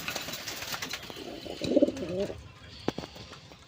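A pair of grizzle pigeons gives a short, throaty cooing burst near the middle, close by, followed by faint scattered clicks and rustles against a quiet background.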